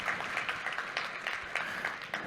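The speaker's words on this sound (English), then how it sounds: "Let's give yourselves a big round of applause for being here" Audience applause at a maritime manpower forum, a moderate, uneven clapping from a seated crowd with irregular peaks, fairly close and continuing for a couple of seconds.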